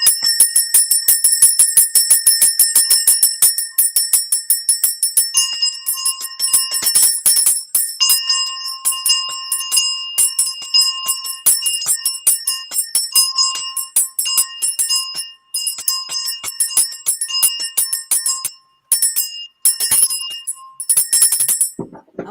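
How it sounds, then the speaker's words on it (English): Bright metallic bells ring loudly and continuously in a dense jingling stream, with sustained high tones layered over rapid tinkling strikes for over twenty seconds, no voices. "Oh, the bells."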